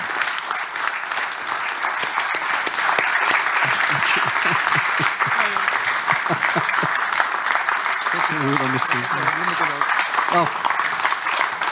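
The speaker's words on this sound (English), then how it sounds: "a very warm applause for this life achievement" Steady, warm applause from an audience at a financial communication awards ceremony fills the whole stretch, with a few voices briefly audible underneath.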